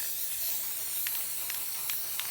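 Several brief hissing bursts from a spray paint can coating PVC enclosure parts, spaced about half a second apart over a low, steady hiss of room noise.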